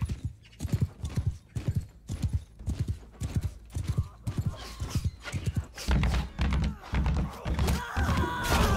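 Horse hooves pound in a rapid, regular gallop while riding into enemies in the medieval battle game Mount & Blade 2: Bannerlord, close and loud, turning into a denser clatter of combat and crowd noise in the final seconds.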